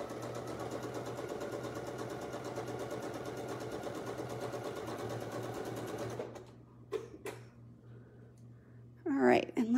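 Sewing machine stitching quilt pieces with a leader scrap, a steady close mechanical whir for about six seconds that then stops, followed by faint handling noises and a brief voice at the end.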